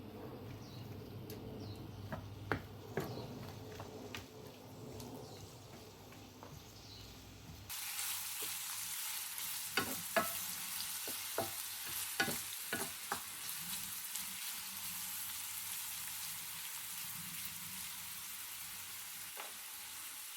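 Carrot batons fry in ghee over medium heat in a small pan, giving a steady, quiet sizzle with scattered pops and crackles and no voices.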